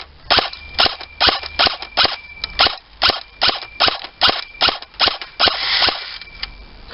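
An airsoft gun fires about twenty rounds at a pole in quick, fairly regular succession, each shot a sharp close snap followed by a faint ringing hit.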